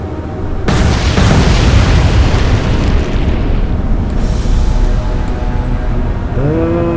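Naval weapons fire in the World War II warship game Atlantic Fleet, heard as a loud, sustained rumble of explosions that builds suddenly and rolls on for several seconds without letting up.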